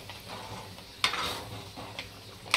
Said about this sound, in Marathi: आता हा मसाला चांगला तेल सुटेपर्यंत परतून घ्यायचा आहे